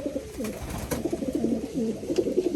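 Racing pigeons, young late-bred birds in a loft, coo in soft throaty rolling phrases, several overlapping close by, with faint rustling and no voices.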